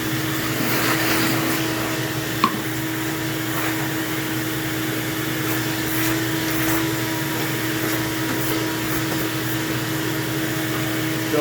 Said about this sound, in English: We're going to get the shop vac. We have it right here. Put it on and start cleaning it out.